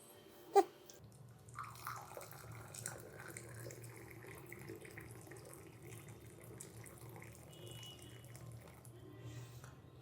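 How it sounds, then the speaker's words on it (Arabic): Hot water poured from above onto a glass taken frozen from the freezer, a soft continuous trickle and splash running for several seconds after a single sharp knock near the start, fairly quiet and without talk. "تعالوا بقى نحط عليها مية سخنة"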